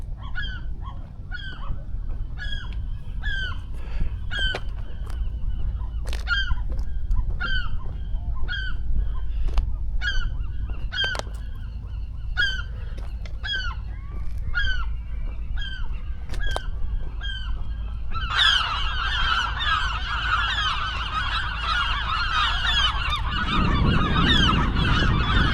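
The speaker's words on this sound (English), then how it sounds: "Look at all the birds" A large flock of geese honks repeatedly at a lake on Alcatraz Island, calls overlapping in irregular bursts that swell into a dense, louder chorus toward the end.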